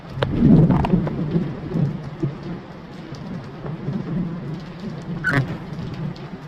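Rain falls steadily with low rumbling thunder, a heavy swell early on fading into a softer, continuous patter with occasional sharper noises nearby.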